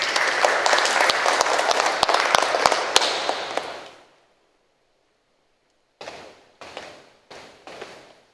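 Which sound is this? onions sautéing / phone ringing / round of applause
round of applause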